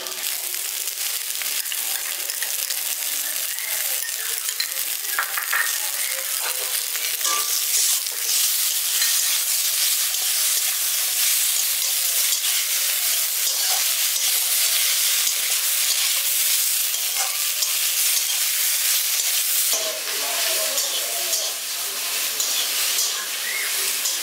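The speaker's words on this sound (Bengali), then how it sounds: "আদা বাটাটা দিয়ে দেওয়ার পর এটাকে আমি একটু ভাজা ভাজা করে নিয়েছি।" Ginger paste fries and is stirred in a pan for a village-style winter vegetable dish: a steady, loud sizzle and hiss with occasional scraping stirs, close up and continuous, with no talking.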